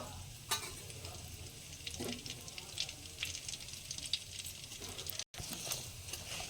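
Mustard seeds, fenugreek and dried red chilies crackling in hot oil for a village-style fish curry, a faint, steady sizzle with light popping and pattering, heard alone.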